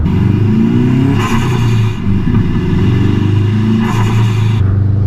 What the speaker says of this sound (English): The HKS SSV on this with the K&N air filter just makes the right noise.